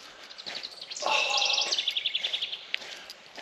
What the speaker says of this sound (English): the birds here are putting on a concert for us